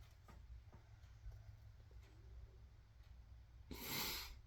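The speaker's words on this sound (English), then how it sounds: "Sawdust is making me sneeze a bit." A single sharp sneeze near the end, set off by sawdust while restoring a briar pipe, bursting loud and close over an otherwise quiet room.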